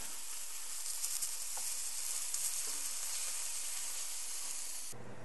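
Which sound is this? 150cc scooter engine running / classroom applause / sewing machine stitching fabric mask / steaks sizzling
steaks sizzling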